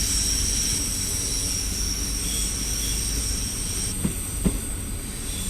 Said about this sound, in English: maybe a little too much emphasis on the motor while it's idling